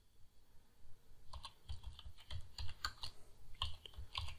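Clattering keystrokes come in quick bursts on a computer keyboard as a cover letter for an Upwork data entry job is typed, close and fairly quiet after a brief silent start.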